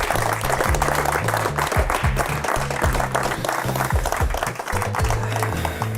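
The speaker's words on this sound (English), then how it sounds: "a big round of applause for" At the Footgolf Irish Open 2022 event, a crowd gives a sustained round of applause for a sponsor, the clapping steady and fairly loud over a rhythmic music track playing underneath.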